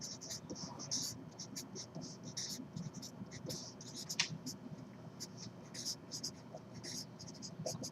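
A pen or pencil writing on paper in quick, repeated scratchy strokes, close and clear over a steady low background hum.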